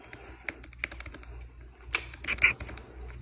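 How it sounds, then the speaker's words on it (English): Typing on a computer keyboard during a live stream, a flurry of light, uneven key clicks at close range with a brief louder cluster of taps partway through, no speech over it. "I'm not finding it by just typing Pedro name in"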